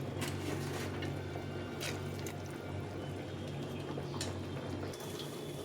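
Chana dal goes into hot water in a pressure cooker, giving a soft continuous watery pouring and bubbling wash with a few faint splashes and knocks, fairly quiet and steady, with no one speaking.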